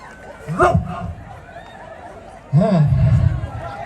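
Two people imitate barking security dogs in an animal sound contest at a Lagos camp, each giving a short, loud, close burst of voiced barks, one around the start and a longer one later, with crowd chatter behind.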